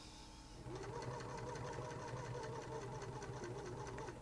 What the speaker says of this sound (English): I sometimes sew a little slower here.